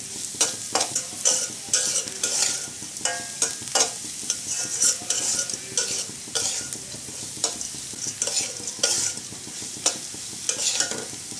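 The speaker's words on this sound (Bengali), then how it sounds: "এইরকম করে ভেজে নিতে হবে ডালগুলো" Lentils dry-frying in a pan, steady sizzle broken by frequent rhythmic scraping strokes of a spatula, close and fairly loud throughout.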